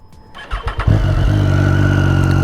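A Triumph triple motorcycle with an Arrow slip-on exhaust cranks with a few rhythmic starter pulses, then catches and settles into a loud, steady, close idle.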